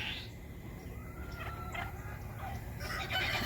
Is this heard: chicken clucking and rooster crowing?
yes